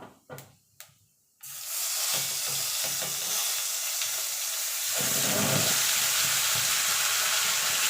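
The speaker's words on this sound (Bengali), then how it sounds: "ফোড়নটা একটুখানি ভাজা ভাজা করে নেবো ফোড়ন থেকে সুন্দর একটা গন্ধ বেরিয়ে এলে এখানে যে মশলাটা করে রেখেছিলাম মশলাটা দিয়ে দেবো" Spice paste dropped into hot tempering oil while cooking a fish and potato curry: a few clanks, then a sudden loud sizzle that holds steadily and grows slightly hissier, with occasional stirring scrapes.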